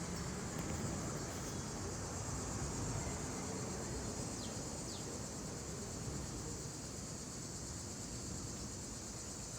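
A steady, high, shimmering insect drone of cicadas in New Jersey fills the background, fairly faint and constant, with a couple of brief chirps.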